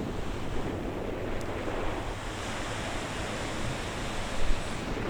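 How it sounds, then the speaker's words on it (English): Ocean waves roll onto a Los Angeles beach near LAX as a steady, dense roar of surf mixed with wind buffeting the microphone, with no voices. "And we're back at the beach again."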